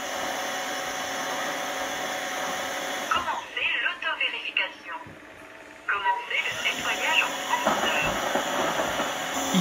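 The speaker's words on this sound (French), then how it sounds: "on peut s'apercevoir que la brosse va s'auto-nettoyer directement grâce au socle de rechargement" EZVIZ RH1 wet-dry cordless vacuum brush docked on its charging base during the self-cleaning cycle, giving a steady loud motor hum with surging, gurgling water and whooshing bursts midway, close by.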